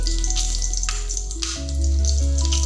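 Bay leaf and panch phoron spices sizzle steadily in hot oil for an Assamese fish dish, a continuous close frying hiss with a brief stir and a louder surge as the spices hit the pan, no voices.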